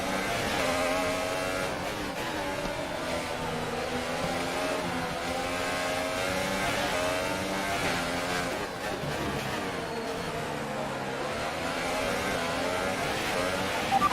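Formula 1 car engines scream and rev continuously in the F1 2018 racing video game, several cars whining together through a corner sequence, loud and steady with shifting pitch as they brake and accelerate.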